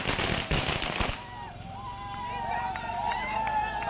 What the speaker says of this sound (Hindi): जमकर पटाखे फोड़कर जश्न मनाया गया है